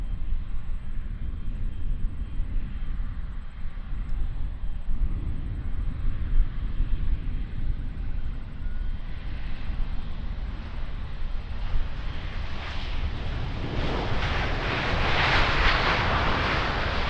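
A Jetstar airliner at Auckland Airport, arriving from Wellington, heard as a steady broadband engine roar that builds louder toward the end, with no talk over it.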